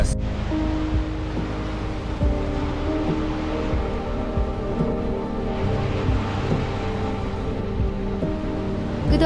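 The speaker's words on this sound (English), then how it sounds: "the waves can come in the back and swamp us" Steady wash of ocean waves surging behind a sailing yacht in following seas, a continuous loud broadband roar with low rumbling and no distinct breaks, no voices present.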